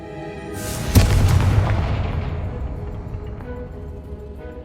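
A Confringo spell explodes in the Hogwarts Legacy video game, one sudden loud boom followed by a long rumbling decay that fades over several seconds, with no talk.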